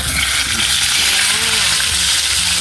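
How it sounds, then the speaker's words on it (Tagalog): Galunggong fish fry in hot oil with a steady, fairly loud sizzle, while voices talk faintly in the background. "magsimulan tayo magprito ng galunggong po"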